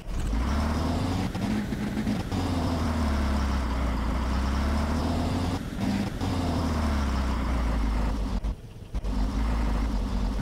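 A truck engine runs steadily in a sound effects recording, a deep continuous rumble with a looping rise and fall and a brief dropout near the end.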